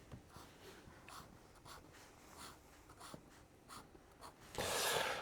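A pen scratches across paper while sketching a wooden window frame detail, with faint, irregular strokes and short pauses, ending in a louder rustle of paper.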